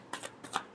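Tarot cards being shuffled, two quick riffling bursts in under a second, close but faint.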